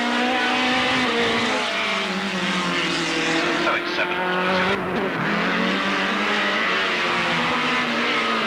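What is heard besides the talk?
race cars racing at Alwalton Raceway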